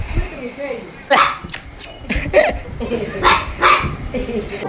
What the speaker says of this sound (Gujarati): ચિમ્બા કુતરું છે